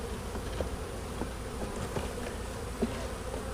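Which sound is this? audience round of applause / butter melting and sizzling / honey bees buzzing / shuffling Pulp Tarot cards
honey bees buzzing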